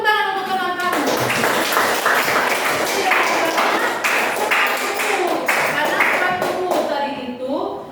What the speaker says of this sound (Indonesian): tepuk tangan untuk teman kamu